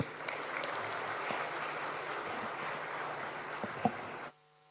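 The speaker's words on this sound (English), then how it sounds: "welcome His Excellency the President to give us his vision with a round of applause" Audience applause welcoming the President at a formal foreign policy gathering, a steady dense roar of clapping from a large crowd lasting about four seconds before cutting off abruptly into near silence.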